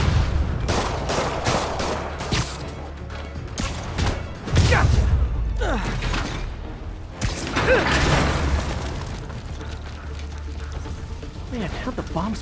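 Rockets and gunfire aimed at Spider-Man in the Marvel's Spider-Man video game, a dense loud barrage of blasts, whooshes and booms with game voices talking over it.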